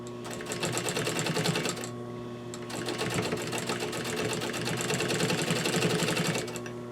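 A sewing machine runs steadily while stitching the seam of a Parson's chair slipcover, a close, continuous whirring with a brief pause in the middle before it starts up again.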